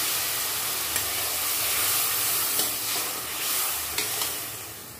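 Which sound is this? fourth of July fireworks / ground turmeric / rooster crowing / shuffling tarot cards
ground turmeric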